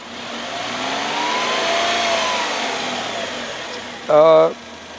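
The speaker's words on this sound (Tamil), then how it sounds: "ரவ் பண்ணி பார்ப்போம்." A 2025 Tata Tigor sedan's engine drones steadily and swells gently as it is revved, close and fairly loud, with a short, sharper burst near the end.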